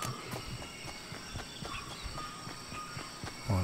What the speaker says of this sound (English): I think I just heard footsteps